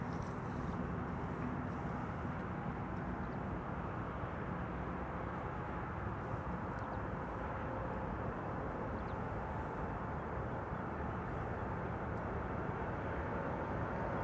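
A United airliner bound for Newark roars at Amsterdam Schiphol, a steady, fairly distant broadband jet rumble that holds even for the whole stretch with no talking.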